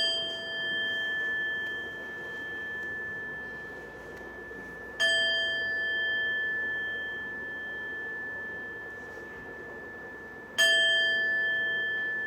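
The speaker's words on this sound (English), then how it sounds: "right after ringing the bell" A meditation bell rings twice, each strike leaving a long, clear, shimmering tone that slowly fades, with quiet room hiss beneath.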